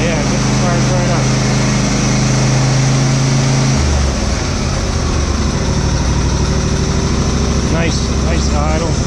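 A Briggs & Stratton 24 hp engine on a Husqvarna mower with a surging throttle runs loud and close, its low rumble shifting partway through and then settling into a steady idle.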